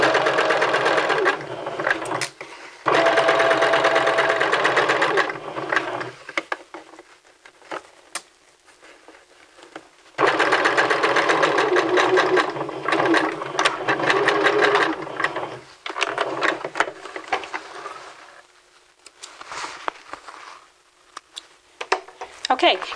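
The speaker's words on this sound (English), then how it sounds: "And we're sewing 5/8 of an inch." A sewing machine stitches a 5/8-inch seam on a men's vest in loud close bursts of rapid mechanical patter, with pauses between runs.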